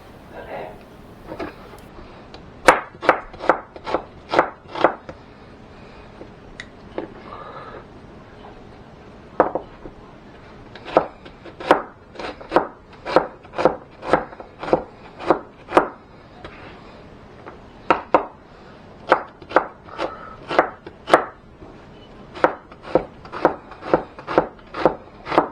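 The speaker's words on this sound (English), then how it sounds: "I'm going to chop up our onion" A knife chops an onion on a wooden board in quick bursts of sharp, close taps separated by short pauses, steady and rhythmic throughout.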